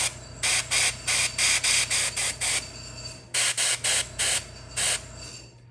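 Airbrush spraying paint onto a miniature figure, heard as a series of short, even bursts of close hiss, about a dozen evenly spaced, with a brief pause partway through and a steady low hum from the compressor underneath.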